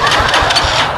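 A motorcycle engine turning over as someone tries to start it, a steady rumbling engine sound that holds throughout the short clip with no speech over it.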